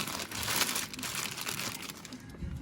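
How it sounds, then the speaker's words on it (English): Close, continuous crinkling of a plastic bag being worked over a tie rod while replacing a power steering boot on a 2004 Toyota Sienna. "take a plastic bag, put it on here"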